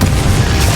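A Confringo fire spell explosion in Hogwarts Legacy: a brief, loud, heavy booming blast with a thick low rumble, dense and close, lasting under a second.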